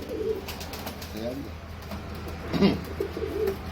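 Ambarsary pigeons, an old Indian breed, coo in short low bursts at close range, with someone talking over and between the calls.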